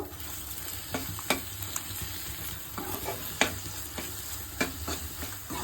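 Eggs with pepper powder stir-fried in a pan for an egg palya with small sambar onions, a low sizzle under repeated spatula scrapes and taps spaced about a second apart.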